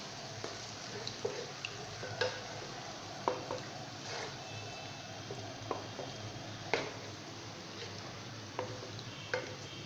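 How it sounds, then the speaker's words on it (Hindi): Chicken karahi masala being stir-fried in a pan, a steady low sizzle with scattered spoon scrapes and clicks against the metal, close and moderately quiet, no voices. "इस रेसिपी को अच्छी तरह भून लेना है। कम से कम 4-5 मिनट भूनना है इसको।"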